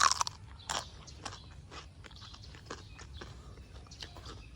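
Someone bites into and chews fresh garden produce such as beans or cucumber, with a sharp crunchy bite at the start followed by quieter, irregular close-up chewing crunches.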